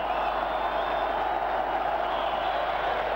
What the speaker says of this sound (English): what a tremendous cheer for the 26-year-old St George winger from Wellington